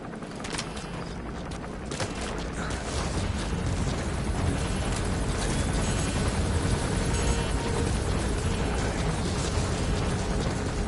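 A helicopter flies in Metal Gear Solid V, its loud rotor chop and turbine roar continuous and close, with bursts of gunfire crackling over it.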